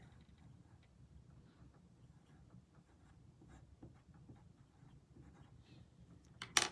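A pencil scratches on paper in a quiet classroom, with soft intermittent strokes and taps that are faint throughout and end in a brief louder scrape.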